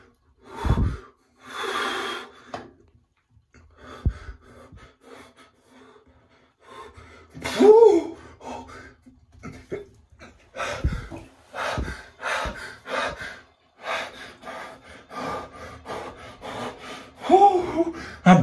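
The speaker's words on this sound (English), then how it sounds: "I'm breathing like crazy right now." Heavy, ragged breathing from a man sitting in a cold bath after a workout: sharp gasps, forceful exhales and snorting breaths in irregular bursts, close and loud, with quiet pauses between them.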